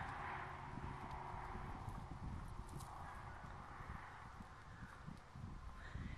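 A three-week-old purebred Friesian foal walks on a lead rope outdoors, its hooves giving a soft, irregular clip-clop close by, with wind and rustling around it.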